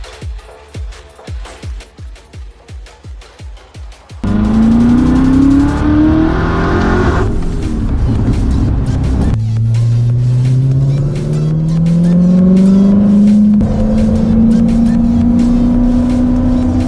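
A Corvette ZR1 V8's stock exhaust burbles at idle, then roars as it revs up repeatedly, loud and close, rising in pitch with each pull.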